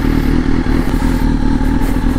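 Motorcycle engine running steadily while riding downtown, a loud continuous rumble with some clatter and thumps throughout, no talking.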